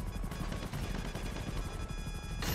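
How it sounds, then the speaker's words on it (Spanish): Rapid gunfire aimed at a helicopter in the video game GTA roleplay, a dense rattling burst of shots running continuously for a couple of seconds, loud and close, with a harsh crash-like swell at the very end. "Le dimos el primer disparo, a ese helicóptero hay que darle varios para que caiga."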